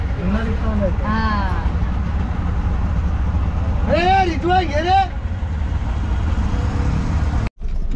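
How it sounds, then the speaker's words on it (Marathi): Road traffic heard from inside an auto rickshaw, a loud constant engine rumble and road noise with a horn-like tonal blare in between, while a voice talks over it. "रिक्षात बसलोय आणि इथे लागले ट्रॅफिक"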